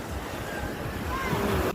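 Black Sea waves at Chornomorsk make a steady wash of surf, mixed with wind buffeting the microphone, continuous and fairly loud through the short stretch.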